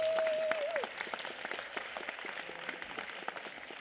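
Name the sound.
applause at a county board meeting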